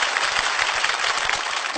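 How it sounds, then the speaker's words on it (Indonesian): A television studio audience at a music nostalgia show claps together in a brief, lively burst of applause, with close, irregular hand claps forming a dense wash of sound. "Kasih tepuk tangan dulu dong Bapak Ibu sekalian."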